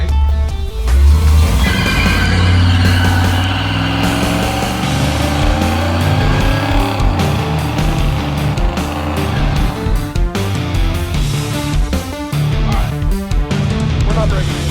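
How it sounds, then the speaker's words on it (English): A car with a welded differential doing a burnout, a loud sustained engine roar with rising and falling revs and tire squeal, continuous over about fifteen seconds. "It's been a while since I've done a burnout."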